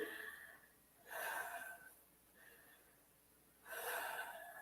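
Deep breaths after exercises come close and clear in a quiet room: long, airy inhales alternate with softer exhales in a slow, even rhythm.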